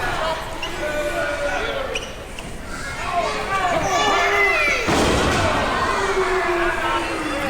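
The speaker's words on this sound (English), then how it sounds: "slamming him down hard on that ring apron, the hardest part of the ring" A wrestler is slammed hard onto the ring apron at a live ACW wrestling event, a heavy thud landing midway through amid a noisy, excited crowd and commentary.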